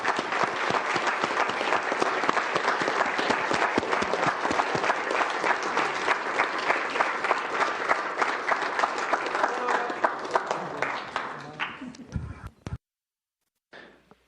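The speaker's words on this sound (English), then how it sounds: "Let's all applaud their work up there." Sustained audience applause for a crew aboard the International Space Station, dense steady clapping that fills about twelve seconds before cutting off abruptly, followed by near silence and a brief final burst.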